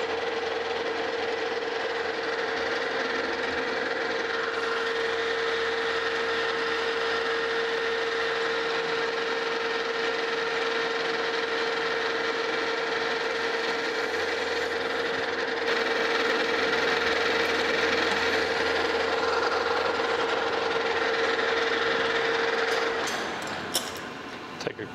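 A machine tool takes a cut on bronze shoes for a steam engine crosshead with a worn insert, giving a steady whine over a low hum that stays even, grows slightly louder midway and then stops near the end.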